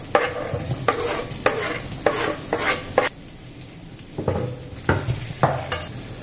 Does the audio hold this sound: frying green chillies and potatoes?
yes